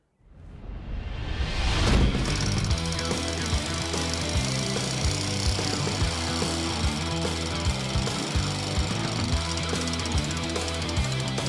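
A Milwaukee M18 brushless power tool roars up quickly and keeps running loud and close with a steady, gritty mechanical drive for about ten seconds, no talk over it.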